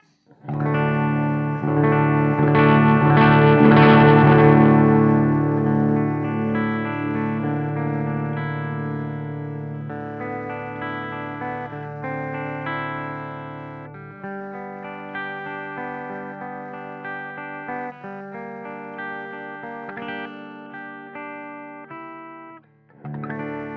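Electric guitar with Seymour Duncan bridge pickup played through a Valhalla Jotunn 20 effects pedal, with sustained distorted chords ringing loudly and then a series of shorter, sustained notes and chords, alone without any talk.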